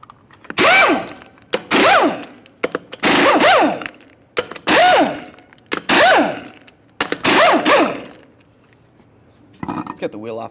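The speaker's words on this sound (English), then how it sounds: "we'll remove all 6 of our 22mm lug nuts located behind it" Six 22mm lug nuts coming off a 1999-2006 Chevrolet Silverado front wheel, heard as a series of loud, close bursts of rattling impact-wrench hammering separated by short pauses, with a faint bit of activity at the end.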